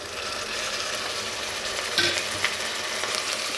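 Chicken pieces frying in a pan for chicken macaroni, with a steady, close hiss of sizzling oil and a few scraping stirs of a spoon against the pan.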